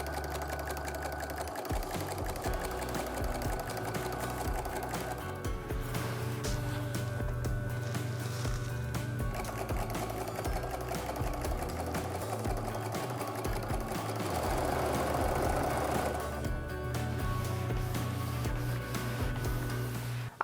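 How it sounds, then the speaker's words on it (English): A sewing machine running steadily while stitching a quilted placemat top, a continuous close mechanical hum and rapid needle chatter that holds for the whole stretch with only slight changes in speed. "I have finished sewing the top of my first placemat."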